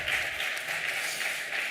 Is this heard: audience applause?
yes